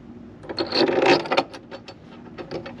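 Small metallic clicks and scraping as a fastener with a washer is threaded into a Sparco seat mount inside a Miata, close and intermittent with a busier burst early on.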